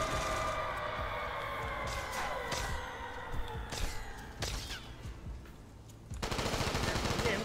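Rapid gunfire from a custom zombies video game rattles in quick bursts, with single sharp shots, a brief lull, then a renewed dense burst near the end.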